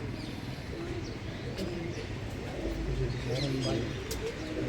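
Paired pigeons in a club loft give low, rolling coos that repeat and overlap, moderately close, while someone talks over them for much of the stretch.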